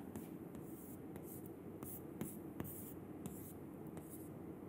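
Faint, scratchy strokes of writing on a board in a lecture hall, coming in short irregular bursts over a low, steady room hiss.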